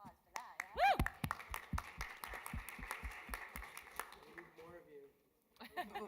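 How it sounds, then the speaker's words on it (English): Scattered clapping from a modest audience of bartenders at a Tales of the Cocktail 2022 session, individual claps distinct and rhythmic, with a brief cheer near the start, tapering off before voices return. "Round of applause for that."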